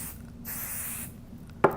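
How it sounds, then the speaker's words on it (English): Spray adhesive hisses onto quilt layers in two close bursts of aerosol spray, followed by a single sharp click, with no talking. "continue with the spray basting"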